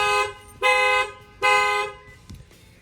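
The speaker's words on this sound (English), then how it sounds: "and that will fire off the alarm" A 2020 Lexus GX460 alarm with an added shock sensor sounds after the glass is struck: two loud, even electronic horn blasts about a second apart, close and clear, then a brief clunk and quiet.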